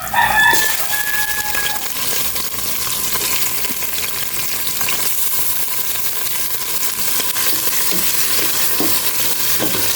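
Chicken pieces go into a hot pan and fry with a loud, dense, continuous sizzle that flares briefly at the start, then holds steady and close throughout.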